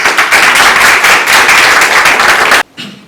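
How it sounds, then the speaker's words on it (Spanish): Loud, dense audience applause welcoming economist Leopoldo de la Jara, president of Grupo Basadre, at an anniversary event for Jorge Basadre's birth, sustained for over two seconds before cutting off abruptly into a quiet room. "Lo recibimos con un fuerte aplauso."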